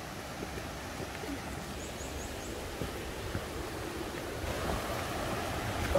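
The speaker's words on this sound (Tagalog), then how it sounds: "narinig ko na yung sapa" A forest stream flows steadily nearby along a jungle trail, a continuous broadband wash of running water with faint bird calls above it, steady and unbroken throughout.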